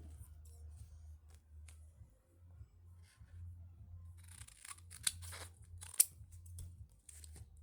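Scissors snip through the plastic packaging of a Labubu blind box, a series of soft, close crunching cuts and rustles spread across the clip over a low steady hum.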